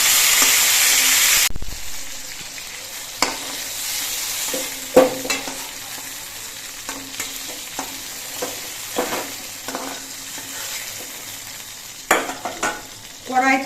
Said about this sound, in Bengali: এই তেলে বাকি মাছগুলো ভেজে নিচ্ছে